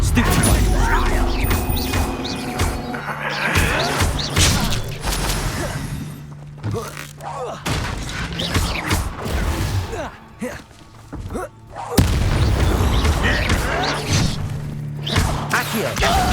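Combat spells from the Hogwarts Legacy video game fly in a battle: a dense run of thumps, crashes and shattering impacts, loud and near, with voices talking over parts of it.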